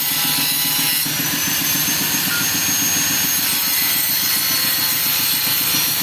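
Loud, steady high-pitched whine of an angle grinder cutting through material, with a rapid pulsing chatter running underneath, continuous and close throughout.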